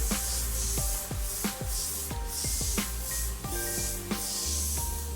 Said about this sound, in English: keep that airbrush moving